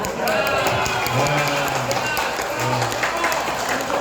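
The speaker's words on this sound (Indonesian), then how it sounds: "Tepuk tangannya banyak." Audience clapping at an amateur radio (ORARI Banyumas) local meeting, a busy crowd of hands with voices murmuring and calling out underneath throughout.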